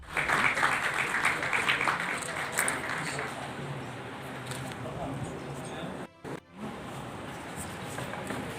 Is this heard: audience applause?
yes